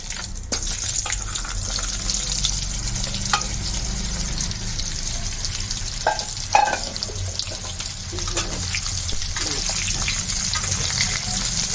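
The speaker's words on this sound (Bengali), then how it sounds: "এভাবে জলপাইগুলো তেলের উপরে কিছুক্ষণ নাড়তে থাকবে" Olives fry in spiced oil with a steady sizzle throughout, with occasional stirring clicks and scrapes of a utensil against the pan.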